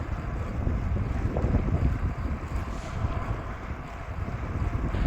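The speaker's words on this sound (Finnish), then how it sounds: "Täällä on aika syksyinen keli, kun hirveä kylmä tuuli" Strong, cold autumn wind in Lapland buffets the microphone in a constant low roar with gusty rumbles, loud and close, no voices.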